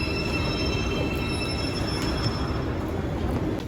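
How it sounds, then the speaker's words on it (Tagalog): Express train to Seoul pulling into a station serving Incheon International Airport, a steady loud rumble of wheels and motors with faint high squeals from the rails and no voices. "Ayan na yung train."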